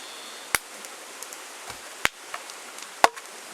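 Three sharp knocks on a hollow wooden 2x4, spaced about a second and a half apart, crisp and close, with faint rattles between.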